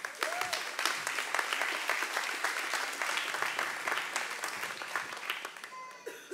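A church congregation applauds a preacher, dense steady clapping filling the room with sharp individual claps standing out, a few voices faintly mixed in before it thins at the end.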